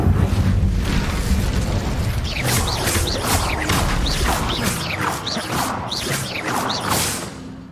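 Incendio fire spell cast in Hogwarts Legacy, a loud rushing, crackling burst of flame with whooshing bursts and rapid chirping effects building over several seconds, no talking.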